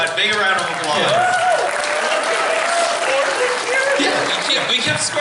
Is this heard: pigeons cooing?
no